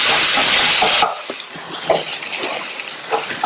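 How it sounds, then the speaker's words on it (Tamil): A spoon stirs tomato masala with coriander powder, crushed pepper and garam masala in a frying pan for cauliflower curry. A loud sizzle starts, then drops to scraping stirs and soft clinks against the pan. "நல்லா கலந்து விட்டுருங்க."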